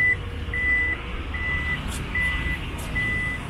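The kick-activated power tailgate of a 2022 Toyota Fortuner Legender 2.4 AT gives five evenly spaced electronic warning beeps over a low hum, with a faint whir of the tailgate motor behind them.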